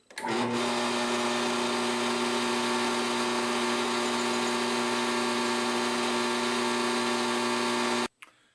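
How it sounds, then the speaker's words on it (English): A drill bores through the scales of an Ontario Knife Company short chef's knife, running steadily at a constant whining pitch for about eight seconds, close and loud, then cuts off abruptly. "And now we're going to drill through."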